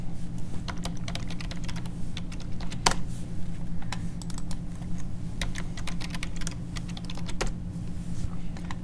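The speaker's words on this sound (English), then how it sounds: "I will type the username and now the new password" Keystrokes rattle on a computer keyboard as a username and password are entered, a quick irregular run of clicks with a few sharper taps, close and continuous over a low steady hum.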